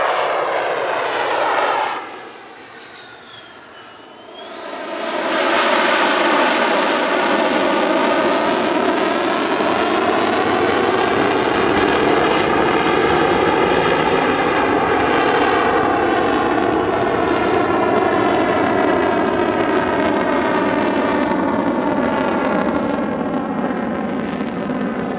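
A twin-seat military jet performing a flare-firing display at the Radom Airshow, its loud engine roar sustained for over twenty seconds with sweeping, shifting tones after a brief lull.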